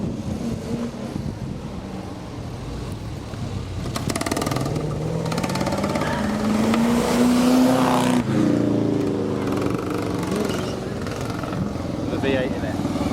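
A Ford Cortina 1600 GT fitted with a V8 engine accelerates up a seaside hill climb course, its engine note rising to a loud roar mid-clip and then easing off, with people talking nearby throughout.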